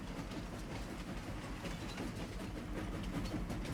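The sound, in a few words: steam train running in Farming Simulator 25 video game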